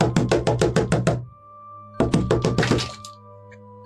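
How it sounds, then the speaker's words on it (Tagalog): Loud, rapid knocking on a door comes in two bursts of about six close, heavy thuds each, separated by a short pause, with a steady low hum underneath. "Biglang may malakas na katok sa pinto."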